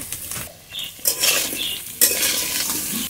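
Potatoes fry with Kashmiri red chili powder, sizzling close up as a spoon stirs and scrapes the pan in short bursts, with metal utensil clinks and no voices.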